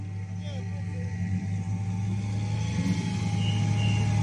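An off-road 4x4 vehicle's engine drones steadily at close range, its pitch climbing slightly as it revs during a rescue in Hîncești, Moldova, while voices call out over the noise.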